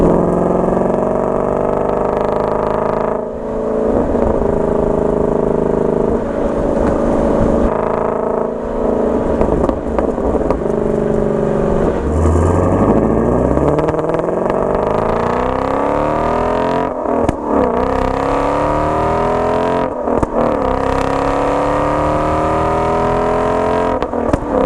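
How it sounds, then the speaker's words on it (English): Shelby GT350 V8 engine in sport mode, picked up by an external microphone, roars loudly and continuously, with repeated revs rising and falling across the run and no talking. "That is a huge difference in the sound,"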